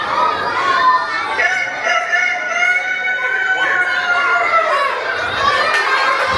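Children at a school Maulid Nabi celebration mimic a rooster's crow in loud, drawn-out chanted calls, several voices together over crowd chatter.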